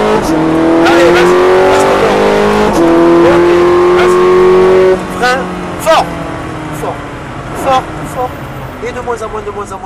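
Ferrari F430 Scuderia engine revving hard as it accelerates on a race track, loud rising harmonic whine with a gear-shift drop midway, fading after five seconds while an instructor talks over it.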